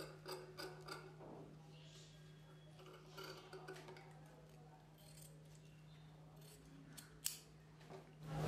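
Scissors cutting blouse fabric and buckram for a collar neck, a series of soft, close snipping clicks over a steady low hum, with someone speaking intermittently throughout.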